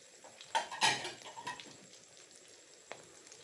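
An omelette fries crisply in hot oil, crackling briefly with a couple of louder sizzling bursts early on, then fading to a quiet hiss and one small clink.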